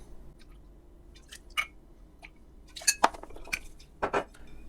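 White rum stirred in a mixing glass gives scattered light clinks and taps of spoon against glass, soft and close, spaced irregularly over a quiet background.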